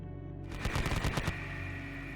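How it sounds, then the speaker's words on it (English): Heavy machine gun sound effect from a tabletop wargame battle: a single fast burst of about ten loud rattling shots lasting under a second, followed by ringing decay, with no talk. "Rev activating his Mark I infantry with the heavy machine gun"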